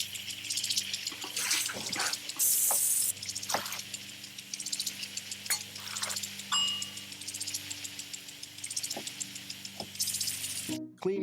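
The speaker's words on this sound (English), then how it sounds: "utensils, and hands with soapy water." Water runs from a kitchen tap while hands, utensils and surfaces are washed with soapy water, a steady close splashing broken by clinks and brief knocks.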